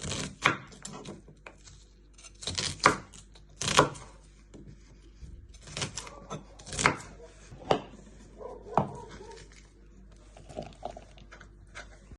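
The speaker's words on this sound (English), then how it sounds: "Turn it around and just slice it into little pieces." A knife slices meatball ingredients into small pieces on a board, giving sharp, irregular chopping knocks scattered through the clip with quiet gaps between strokes.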